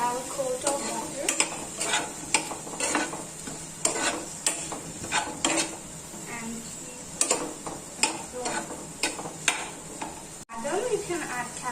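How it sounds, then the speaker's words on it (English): Onions frying in butter for paneer butter masala are stirred in a pan, with a continuous sizzle and repeated rhythmic spatula clicks and scrapes against the metal, close and fairly loud. "So mix this onion and make it turn into golden brown. Mix it well, and the onion should have a coat of butter."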